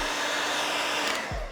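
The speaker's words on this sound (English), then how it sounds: "So I recommend just a regular hairdryer," A regular household hair dryer blows hot air onto a stripped pocket knife screw. The whoosh is loud and steady and close to the mic, then it dips and shifts briefly near the end.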